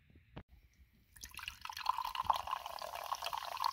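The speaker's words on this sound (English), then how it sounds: "Bob, you want to go ahead and pour it into the glass?" Mountain Dew Rise energy drink is poured into a glass, giving a steady liquid trickle with small drips that starts after a quiet moment and carries on to the end.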